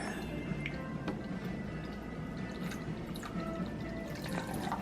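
Twelve ounces of water is poured to mix soy toddler formula, a continuous trickling and splashing stream heard up close with a few brighter drips.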